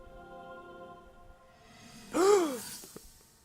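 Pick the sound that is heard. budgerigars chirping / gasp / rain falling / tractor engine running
gasp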